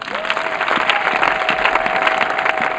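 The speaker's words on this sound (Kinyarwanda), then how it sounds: "Ni mugakomera amashyi" A church congregation applauds loudly and continuously during a service, with a broad wash of clapping and crowd noise. A steady tone hums underneath the applause.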